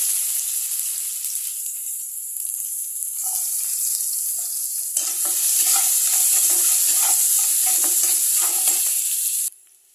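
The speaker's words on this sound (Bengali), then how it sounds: "আমি এখন এই পেঁয়াজ কুচিগুলো দিয়ে দেবো।" Chopped onions dropped into hot oil for small potato dum, a loud close sizzle that swells as they go in, with spatula stirring scrapes over the hiss before it cuts off abruptly.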